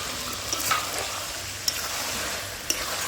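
Chicken fries in a pan with capsicum and green chillies, giving a steady, close sizzle broken by three sharp taps of a stirring spoon against the pan.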